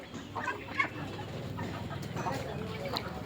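Chickens cluck and call on a poultry farm, in short bursts from several birds over low background noise, close and moderately loud.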